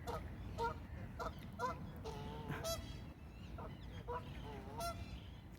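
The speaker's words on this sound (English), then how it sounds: "There's geese running around and they're chasing each other, making a lot of noise." Several geese honking repeatedly as they run around chasing each other, some in quick strings of calls, at moderate distance over outdoor background noise.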